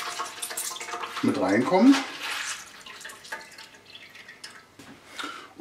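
Soaked gelatin sheets squeezed by hand over a sink while making a cheesecake cream torte, water dripping and trickling in a short burst, fairly close, with a person talking throughout.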